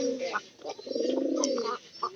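A pigeon coos close by, a throaty rolling call that swells in the middle and trails off, with a few short softer coos around it.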